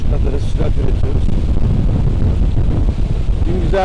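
Strong wind buffets the microphone aboard a Bavaria C50 sailboat under sail at sea, a loud, continuous low rumbling gust noise with faint water sounds, while someone speaks over it.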